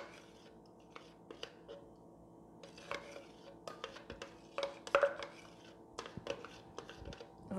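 Homemade transparent liquid soap gel being stirred in a container, with irregular soft clinks and scrapes of a utensil against the vessel, close and fairly quiet, with brief faint voice sounds in between.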